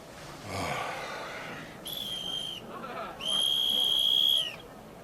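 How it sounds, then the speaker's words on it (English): A shrill, steady police whistle sounds twice, a short blast then a longer one, over a noisy background with a brief breathy rush before it, in a radio drama. "That sounds like a police whistle."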